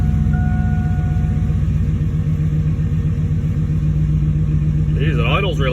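A car engine idling steadily right after a cold start, with a wideband oxygen sensor and gauge fitted, a constant low rumble throughout with a brief higher sound near the end.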